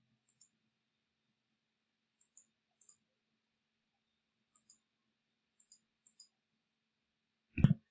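Sparse, crisp computer mouse clicks, single and paired, spaced across a quiet stretch, ending in a brief louder burst of sound.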